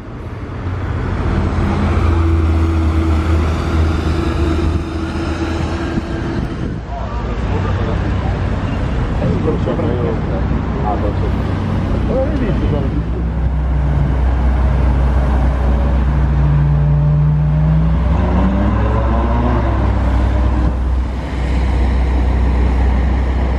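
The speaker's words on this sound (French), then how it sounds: "Ah bah là il y a une 355 qui arrive" A Ferrari 355 sports car engine rumbles and swells as it passes through busy street traffic, with a steady roar throughout and voices faintly mixed in.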